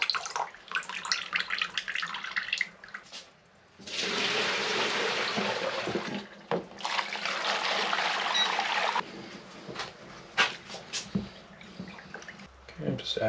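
Water is poured out of a photographic print tray and fresh water runs back in during carbon tissue print development, two long bursts of splashing and pouring broken by short pauses, with handling noises between them.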